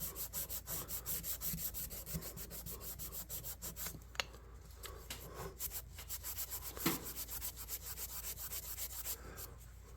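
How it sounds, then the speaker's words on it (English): Fine 2000 grit sandpaper rubbed over a rusty small bowie knife, a steady rhythmic back-and-forth scratching at close range, faint and unbroken with no talking. "Let's just take a little bit of, this is about 2000 grit sandpaper."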